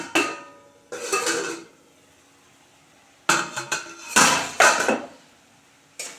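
A lid goes onto a pan of tomato chutney in a kitchen, making a few separate metallic clanks and rattles, first in a short burst and then in a cluster of knocks.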